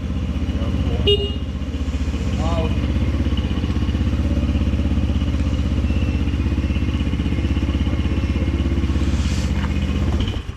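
Linhai M150 ATV engine idling with a steady low drone, then pulling away, with a brief horn-like toot near the start and a faint clatter over the continuous running.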